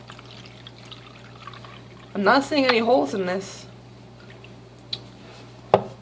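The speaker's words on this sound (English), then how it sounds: "what I'm going to do is pour water in it." Water is poured into a kitchen garden planter in a short, splashing burst of about a second, followed by faint drips and a small knock, with someone talking quietly before and after.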